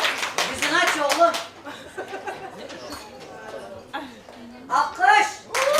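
Guests at a Turkmen wedding in Istanbul clap in short bursts, loud at the start and again near the end, with chatter and voices talking between them.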